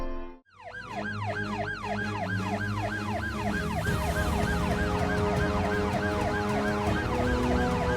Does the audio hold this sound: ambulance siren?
yes